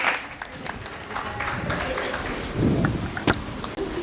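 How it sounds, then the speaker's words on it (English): Audience applause at a school family talent show for pre-primary students and parents in Hyderabad, a short dense burst of clapping with crowd murmur, swelling near the end. "Please give them a huge round of applause."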